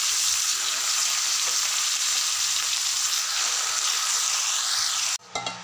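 Amaranth greens stirred in a frying pan, giving a loud, steady sizzle and frying hiss that runs throughout before cutting off sharply near the end, followed by a couple of brief clatters.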